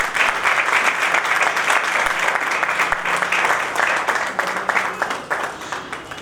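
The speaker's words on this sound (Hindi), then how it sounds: "जोरदार तालियां।" An audience at a book launch ceremony breaks into loud, sustained applause, dense clapping that holds steady and then thins into scattered claps toward the end.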